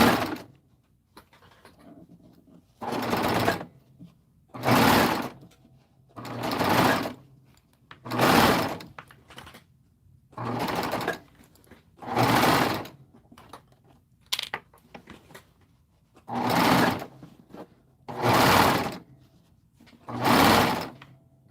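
Home sewing machine stitching fabric in evenly spaced runs, about ten bursts of steady whirring motor and needle chatter, each lasting a second or two with short quiet gaps between, close and fairly loud.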